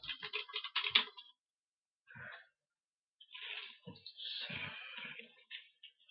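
Computer keyboard typing in a quiet room, a short flurry of clicks, a pause, a brief tap, then another longer run of keystrokes, close and soft.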